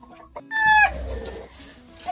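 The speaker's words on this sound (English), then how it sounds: "the blueface rooster over his sisters, the gray hens" Colonel Givens hatch chickens in a pen, a blue-faced rooster and gray hens, give a short loud crow-like squawk and clucks, near and alone.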